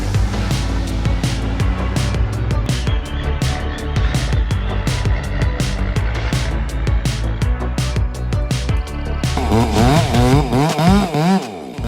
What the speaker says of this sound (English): This is how the strong woman prepares to cut down the huge tree trunk